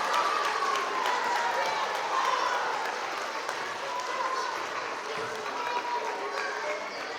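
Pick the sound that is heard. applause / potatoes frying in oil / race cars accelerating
applause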